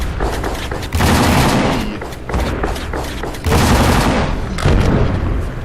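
Rapid shotgun blasts from a first-person shooter video game, loud and booming in quick bursts with barely a pause, surging across the whole clip with a brief dip near the middle.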